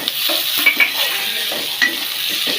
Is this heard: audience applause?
no